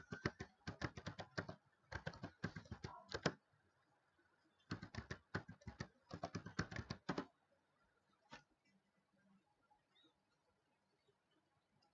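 Quick bursts of clicky typing on a computer keyboard, several rapid runs of keystrokes separated by short pauses, close and clear in a quiet room, trailing off to a few stray taps.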